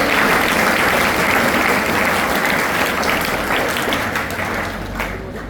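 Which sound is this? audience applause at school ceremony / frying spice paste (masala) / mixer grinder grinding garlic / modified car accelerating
audience applause at school ceremony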